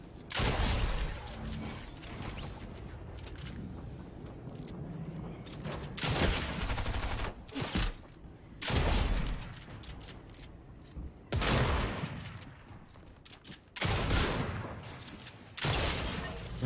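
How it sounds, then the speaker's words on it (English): Shotgun blasts in a video game: loud, broad booms go off every second or two over a constant clatter of game noise, some firing in quick pairs. "My shotgun's doing damage this game"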